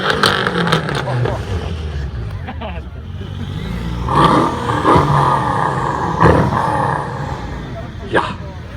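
Real exhaust of a sports car revving at a car show with Lamborghini, Ferrari and Corvette, several loud throttle blasts and a rumbling idle mixed with people talking and cheering nearby.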